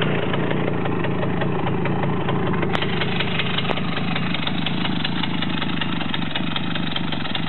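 A Romet motorcycle engine runs at a steady, loud, close idle, a constant mechanical drone with no change in pace throughout.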